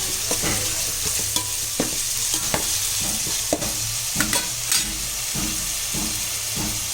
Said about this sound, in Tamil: இந்த பச்சை வாசனை போகிற அளவுக்கு நல்லா வதக்கிக்கலாம்.